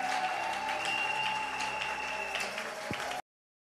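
Steady applause and cheering from a church congregation during worship, a dense continuous wash of clapping that holds at an even level and then cuts off abruptly.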